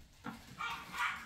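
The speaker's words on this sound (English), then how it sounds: "That is my little dog arguing with her cat brother." A small dog lets out a few faint, short barks and yips at a cat indoors, three brief bursts spread over about a second.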